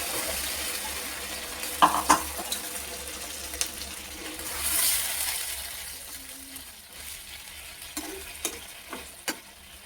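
Sizzling koi fish curry in a pan gets a small splash of water, with a brief hiss and stirring clatter, then steady frying crackle continuing close by.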